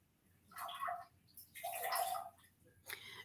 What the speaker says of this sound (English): I can just hear water in the background